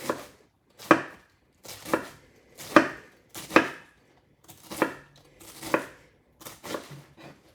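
A knife slices through cabbage onto a cutting board in about nine evenly spaced, close, crunchy chops, each cut a sharp thud with a short crisp tail.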